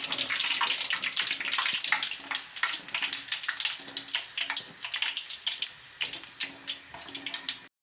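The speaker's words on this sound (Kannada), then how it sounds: "ಪೂರಿ ಮಾಡೋಕ್ಕೆ ನಾನು ಎಣ್ಣೆ ಕಾಸಕ್ಕೆ ಇಟ್ಕೊಂಡಿದ್ದೀನಿ. ಪೂರಿ ಇಟ್ಕೊಂಡಿದ್ದೆ ಹಾಕೋಣ." Poori frying in hot oil, a dense, loud, hissing sizzle right up close that gradually breaks into bursts of crackling before stopping abruptly, with no voices.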